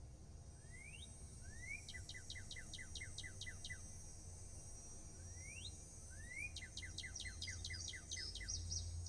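A Northern cardinal sings in the Nancy Drew game Ghost Dogs of Moon Lake, with two phrases of rising slurred whistles, each followed by a rapid train of crisp chirps, clear over a soft steady hiss with no voices.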